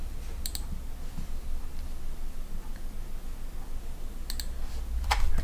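Calculator buttons are pressed in a few short, light clicks: a quick pair near the start, then a small cluster toward the end. The clicks are faint over a low background hum, and no one speaks.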